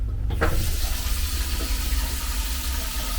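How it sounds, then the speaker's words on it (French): Steady hiss of running water from a kitchen tap above an under-sink water filter, continuous and close, with a low rumble underneath and a faint clink near the start. "On peut même rouvrir le robinet au-dessus."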